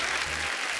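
Studio audience applause on The Kapil Sharma Show, a dense burst of clapping, loud and continuous across the whole moment.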